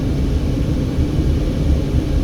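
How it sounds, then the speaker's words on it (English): A tourism helicopter flies overhead near the Hoover Dam bypass bridge on Interstate 11, heard as a steady, continuous low rumble with no talk. "there's a tourism helicopter up there in the sky"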